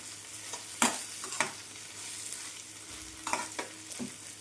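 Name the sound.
stirring spices and coriander into tomato chutney mix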